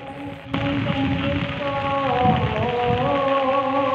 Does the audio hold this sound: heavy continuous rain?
yes